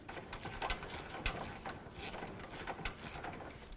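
A ratchet tightens a nut on the track bar of a 2007-2014 Cadillac Escalade, giving quiet, close clicking with uneven bursts of pawl ticks and small sharper clacks, no talking.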